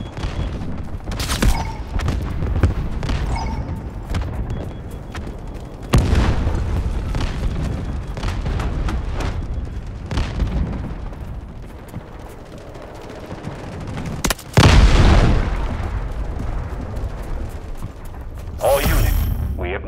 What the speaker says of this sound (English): Cruise missiles inbound.